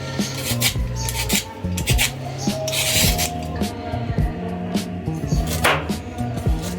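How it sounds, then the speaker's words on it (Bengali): Carrots scraped with a vegetable peeler, close rhythmic rasping strokes repeating roughly every half second, loud and crisp, with a low voice talking faintly underneath. "প্রথমে আমি পিলার দিয়ে গাজরটা ভালো করে ছিলে নিচ্ছি"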